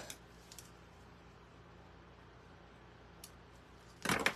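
Material for a homemade Halloween witch's broom is cut in one short, crisp burst near the end, following several seconds of near silence in a quiet room.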